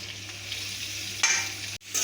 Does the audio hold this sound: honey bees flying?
no